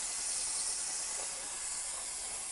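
An aerosol tin of spray paint, running low, hisses in a steady, loud continuous jet as it coats model railway trees, with no voices.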